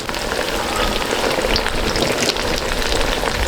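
Cakes frying in a pan give a steady, close crackling sizzle, somewhat like rain on a surface, which stays dense and even from start to finish.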